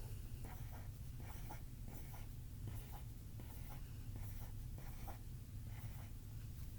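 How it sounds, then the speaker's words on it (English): A pencil scratching circles on paper in steady, repeated strokes, close and quiet, with no voices. "We'll just draw some circles."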